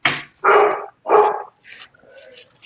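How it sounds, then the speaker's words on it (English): A pet dog barks sharply indoors, three loud close barks in quick succession followed by softer whimpering yips. "Yeah, that's my dog."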